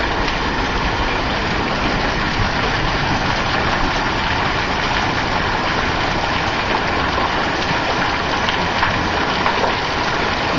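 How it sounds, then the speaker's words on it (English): Penny-sized hail from a spring hailstorm falls in a dense, continuous clatter that drums loudly and evenly over a low steady rumble, with no voices. "Good amount of hail going on now."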